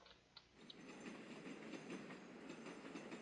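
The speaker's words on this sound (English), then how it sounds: "Oh, the train is moving." Train in the video game Automation Empire rolls along with quiet, rhythmic clickety-clack wheel sounds, faint and steady with no talking.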